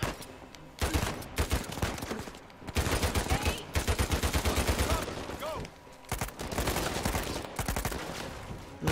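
Gunfire in Uncharted 4, bursts of rapid automatic shooting broken by brief pauses, loud and close, with game effects layered underneath.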